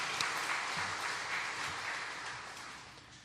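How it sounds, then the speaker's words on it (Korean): A Korean church congregation claps for a missionary during a Sunday service, a dense, even burst of applause that starts full and slowly tapers off over a few seconds, with no voices over it. "박수 한번 우리 보내드립니다."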